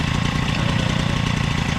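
A Peugeot 103 moped fitted with an Airsal 65cc T3 engine idles close by with a fast, steady two-stroke putter and an even, throbbing rhythm.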